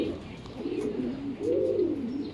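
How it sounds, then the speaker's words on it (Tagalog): Racing pigeon at a loft after a 76 km training toss, giving soft repeated cooing close by with faint background noise. "Ayan na mga pards, pumasok na yung ating first bird."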